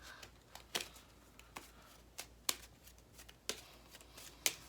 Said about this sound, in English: I will gladly shuffle a monster into the deck as my penalty.